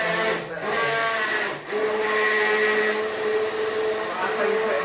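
A hand blender whirs continuously in a pan of chicken, leek and bacon soup, a steady loud motor drone with brief dips as the blade shifts, with no talking over it.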